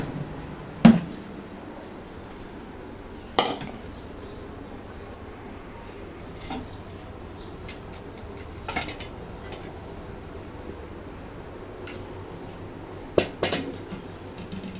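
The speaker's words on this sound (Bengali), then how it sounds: "এই যে মাংসটা গরম করে ফেলি।" A pan and utensils are handled in a home kitchen while cooked meat is reheated, giving a few sharp metallic clanks spread far apart over a quiet room background.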